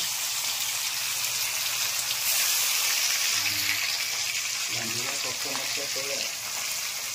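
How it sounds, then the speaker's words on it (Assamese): Pabda fish frying in a little hot oil in a wok, a steady broad sizzle like light rain running throughout, with a voice speaking briefly near the end over it. "এয়া পাভ মাছ ফ্ৰাই"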